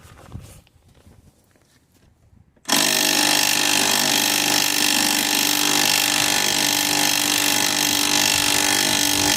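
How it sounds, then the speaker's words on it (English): A few quiet knocks and shuffles, then a power drill starts abruptly and runs loud and steady, drilling down through an old Citroen shock absorber, a continuous whirring grind to the end. "hold the shock at the bottom while I'm drilling it from the top"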